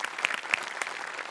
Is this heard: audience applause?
yes